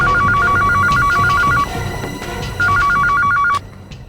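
Telephone ringing in an office setting, two bursts of a loud electronic warbling ring separated by a short pause, close and clear with no talk.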